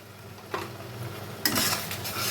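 Poppy seed paste is sautéed with spices in a pan for mustard-poppy catla fish: a soft, steady sizzle broken by two sharp scrapes of a spoon stirring against the pan, with no talking.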